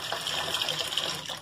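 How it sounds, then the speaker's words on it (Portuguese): Water from a bathroom sink with a clogged trap draining slowly, a continuous close running and gurgling rush, no talk. "Água não tá descendo. Tá demorando muito para descer."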